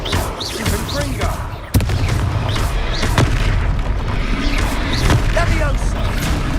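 Confringo fire spells going off in Hogwarts Legacy, several loud booming blasts in quick succession over combat noise, with a voice speaking during the action.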